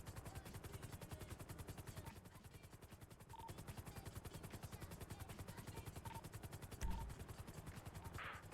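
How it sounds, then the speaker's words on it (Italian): A helicopter in a GTA roleplay game, its rotor thumping in a fast, steady rhythm all the way through at a moderate level, with a brief louder bump near the end. "Vai più lontano con l'elicottero."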